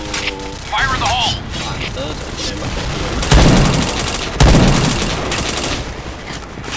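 Rapid bursts of gunfire from a video game shooter crack loudly over a continuous bed of game noise, with two heavier booming shots standing out midway and voices talking throughout.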